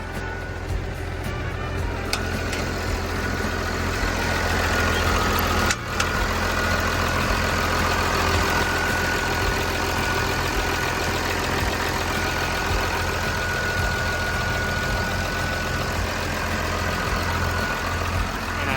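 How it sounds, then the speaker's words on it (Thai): A Komatsu WA380-6 wheel loader's diesel engine idles steadily up close, with a deep rumble and a faint turbo whine above it. One brief knock occurs midway. "เดี๋ยวเปิดเครื่องฟังเทอร์โบให้ดูครับ"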